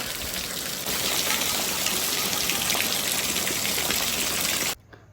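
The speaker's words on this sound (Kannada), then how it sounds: "ಮಳೆ ನೋಡಿ ಹಿಂಗೆ ಬೀಳ್ತಾ ಇದೆ" Dense, loud rain pours down continuously for several seconds, then cuts off abruptly near the end.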